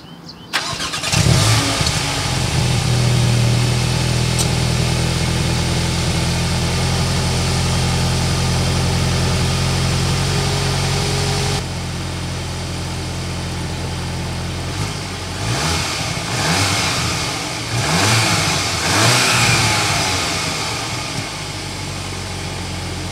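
A 2023 Volkswagen Arteon starts up close by and settles into a steady idle, then the engine takes several rising revs that swell and drop back in quick succession.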